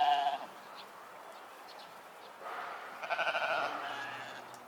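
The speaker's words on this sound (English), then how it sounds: "just behind me, a few goats and sheep" Goats and sheep bleat nearby in On Nut, Bangkok, with a few moderately loud calls rising over steady outdoor background noise.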